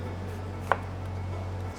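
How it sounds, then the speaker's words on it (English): A single knife cut through an apple end lands on the board as one short, crisp knock, heard faintly over a steady low electrical hum. "then just cut the ends off of your apples"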